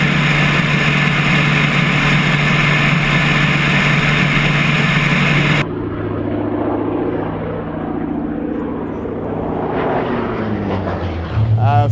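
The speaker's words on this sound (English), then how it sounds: "It's a high-speed dogfighter ground attack aircraft" A propeller warbird fighter, a high-speed dogfighter and ground attack aircraft flying a display, drones loudly at first, then fades to a softer, more distant engine rumble under talk before swelling again.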